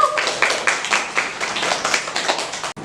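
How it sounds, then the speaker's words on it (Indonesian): A classroom of students clapping together, steady and fairly loud, lasting almost three seconds before stopping abruptly. "Mari kita beri tepuk tangan untuk teman."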